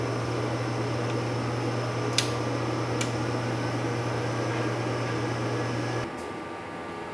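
A Mutoh sublimation printer runs a head clean, giving a steady mechanical hum with a low drone, a couple of brief clicks, then a quieter lower whir as the cycle shifts near the end.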